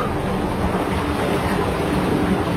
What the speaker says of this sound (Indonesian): sungainya lumayan deras juga ya